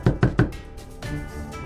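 Three quick, loud knocks land on a front door in an even rhythm, then give way to quiet room noise.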